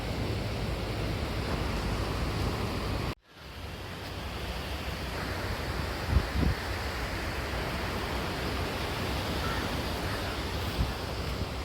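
Steady broadband rush of surf at the shore, with wind buffeting the microphone and a brief dropout partway through.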